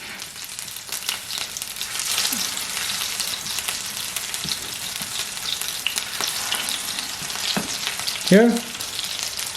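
Aloo tikki potato patties fry in oil with a steady soft sizzle and scattered crackles, a brief voice and a short clattering knock near the end.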